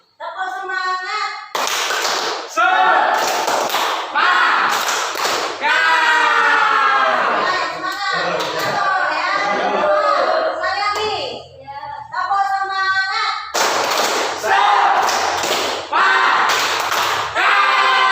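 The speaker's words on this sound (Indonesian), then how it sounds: "Tepuk semangat." An Indonesian classroom cheer with a teacher and children clapping in rhythm, sharp claps in bursts alternating with chanted voices, loud and close throughout.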